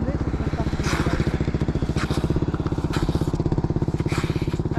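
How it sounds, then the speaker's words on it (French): A motorcycle engine runs close by with a steady, fast pulsing rumble that holds throughout on a road, with people talking over it. "C'est interdit, mais il est en moto."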